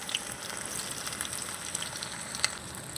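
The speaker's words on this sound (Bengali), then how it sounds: "পেঁয়াজটা আমি ভেজে নেবো" Chopped onion fries in hot mustard oil in a wok with a continuous, close crackling sizzle and occasional pops, heard alone without talk.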